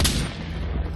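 A single sharp gunshot rings out in the tactical shooter Insurgency on the Ministry map, loud and close, then decays quickly.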